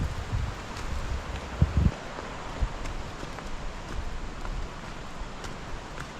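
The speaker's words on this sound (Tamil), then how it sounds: "இந்த காற்று சத்தம், அந்த தண்ணி நீர்வீழ்ச்சியில் சத்தம்" Steady rushing water from the Sera Ella waterfalls fills the background, with occasional low gusts of wind buffeting through.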